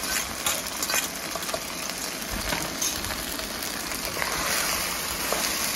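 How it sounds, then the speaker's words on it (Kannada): Cooked rice fries in ghee for a sweet zarda dish, a steady close-up sizzle and crackle with faint stirring scrapes and no voices. "ಚೆನ್ನಾಗಿ ಫ್ರೈ ಮಾಡಬೇಕು ತುಪ್ಪದಲ್ಲೇ"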